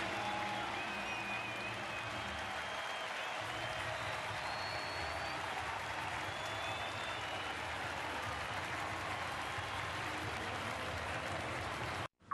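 Baseball stadium crowd applauding a pitcher at a San Diego Padres at Los Angeles Angels night game, a dense, steady wash of clapping and cheering that holds loud and unbroken for about twelve seconds before cutting off.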